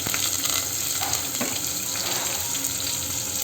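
Onion and asafoetida frying in a pan, a steady, fairly loud hiss of sizzling oil that runs unbroken from start to finish.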